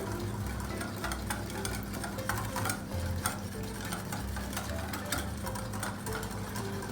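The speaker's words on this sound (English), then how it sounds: "and we'll give it a stir" A spoon stirs banana honey muffin batter of milk and other ingredients in a bowl, a quick regular clicking and scraping rhythm, close and continuous under a low background hum, no speech.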